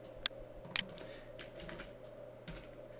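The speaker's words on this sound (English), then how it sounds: "we just type in privacy policy in here" Quiet, sparse keystrokes on a computer keyboard, a few light clicks and taps spread across a faint steady room hum, with no voices.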